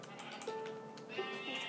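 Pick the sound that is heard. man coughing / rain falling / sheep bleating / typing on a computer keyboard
sheep bleating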